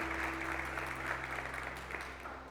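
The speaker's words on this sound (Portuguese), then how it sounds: "Você pode aplaudir esse amor lindo aí?" Church congregation claps in a short, steady round of applause over a sustained low keyboard hum.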